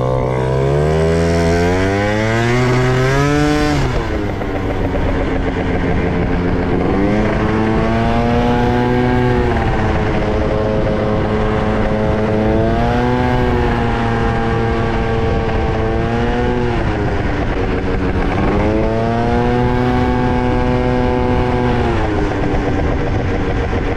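A scooter ridden hard at around 130 km/h, its loud engine whining steadily and sweeping up and down in pitch with throttle changes for the whole stretch.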